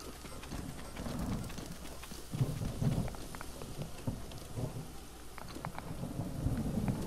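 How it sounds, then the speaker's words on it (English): Steady rain pours with low rumbling thunder rolling through during a lightning storm in Zelda: Breath of the Wild, a continuous dense wash with a few heavier swells. "And here comes a lightning storm."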